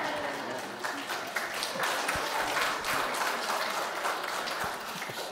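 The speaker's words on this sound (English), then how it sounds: "Round of applause" A gathered audience claps for a birthday announcement in a steady, crowded wash of applause at moderate volume, with some voices mixed in.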